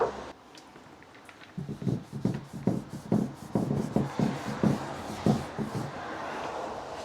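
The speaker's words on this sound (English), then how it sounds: "So microfiber cloth, apply it." A microfiber cloth rubs restorer finish onto dark oak furniture, a series of soft rhythmic swishing strokes, close and fairly quiet, repeating steadily after a brief lull at the start.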